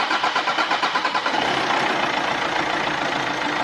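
A Volkswagen Amarok diesel engine with a fuel pressure fault cranks in a rapid rhythmic series of starter pulses, then catches and settles into a loud, steady running rumble close by.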